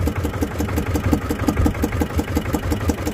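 Fishing boat motor running steadily off Karaburun while red mullet trammel nets are set, a close, even mid-pitched engine drone with a regular pulsing throb and no talking.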